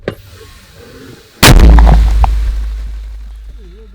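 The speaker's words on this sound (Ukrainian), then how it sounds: "Постріл!" A single thunderous artillery blast erupts after a quiet moment, its deep booming rumble rolling on and slowly fading.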